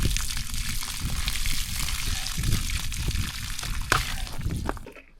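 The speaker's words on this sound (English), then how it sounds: "We just cut the line and drain it." Water draining from a cut water line at an off-grid cabin being winterized, a continuous close splashing trickle with small drips that fades out at the end.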